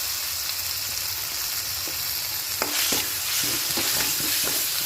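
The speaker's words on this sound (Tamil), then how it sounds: "இப்போ இதுக்கு தேவையான அளவு இஞ்சி பூண்டு பேஸ்ட்டு சேர்த்துக்கலாம்" Ginger garlic paste frying with softened onions in a pan, a steady close sizzle with scraping stir strokes that grow busier toward the end.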